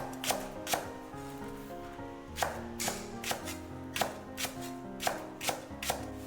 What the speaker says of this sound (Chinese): 准备1根大葱，斜刀切成马蹄片